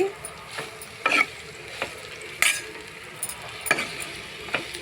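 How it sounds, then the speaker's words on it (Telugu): Tomato chutney ingredients fry in a pan while a spoon stirs them, sharp scraping clinks at irregular intervals over a faint, low sizzle. "బాగా వేయించాలండి ఇవి పచ్చివాసన పోయిందాక బాగా వేయించుకోవాలి"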